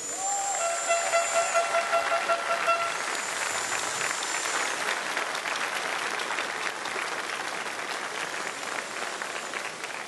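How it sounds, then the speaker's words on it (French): At the Coupe du Monde de la Pâtisserie 2013, a large audience applauds pastry chef Gabriel Paillasson with sustained, even clapping, while a few tonal horn or whistle sounds ring out near the start. "il est là, Gabriel Paillasson, que je vous demande d'applaudir"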